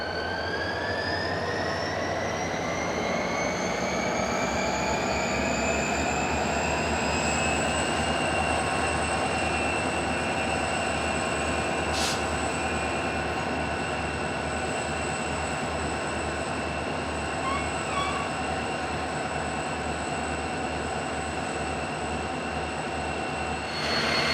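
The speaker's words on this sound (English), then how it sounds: "the train is seen departing Covina for the trip to Bassett" Union Pacific Big Boy 4014 steam locomotive hauled by a train departing Covina, a loud continuous rolling rumble with sustained high wheel squeal and tonal screeching throughout, no voices.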